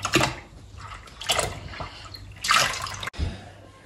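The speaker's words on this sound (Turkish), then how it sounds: "Ve 2 litre süt ekliyorum. İlk önce birinci kutuyu ekliyorum. İkinci sütümüzü de ekliyoruz." Milk pours from a carton into a dish of güllaç in several separate splashing bursts with short pauses between them, close and clear, with a brief bump near the end.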